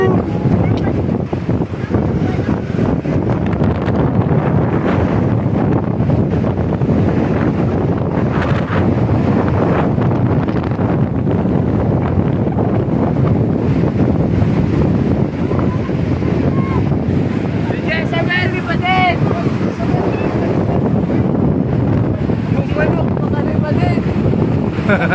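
Strong wind roars steadily across the microphone, a dense buffeting rush that stays loud throughout, with people talking underneath.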